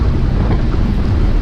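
Strong wind buffeting a microphone during a group cycling ride in high winds, a loud, constant low rumbling roar with no breaks and no voices.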